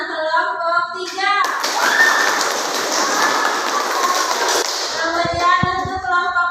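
A classroom group claps together to vote for a team, a dense burst of many hands lasting about three seconds between stretches of talk from the teacher.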